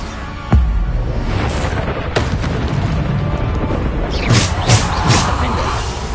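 Bombarda spell blasts go off in Hogwarts Legacy: a loud, deep boom opens, and further sharp explosions burst in quick succession near the end over a rumbling background.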